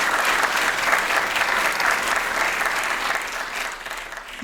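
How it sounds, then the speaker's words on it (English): An audience at a supporters' trust evening event gives a sustained round of applause, dense and steady throughout before tapering slightly at the end. "Round of applause for."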